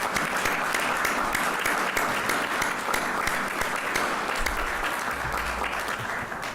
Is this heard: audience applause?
yes